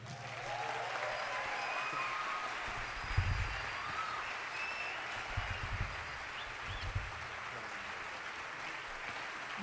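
A theater audience gives warm applause to a singer as she comes on, a sustained wash of clapping at an even level with a few low thumps and faint crowd noise underneath.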